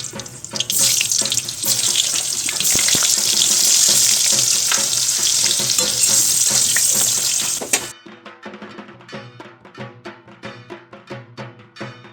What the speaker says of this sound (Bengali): এবারে আলুটাকেও ভেজে নেব আমরা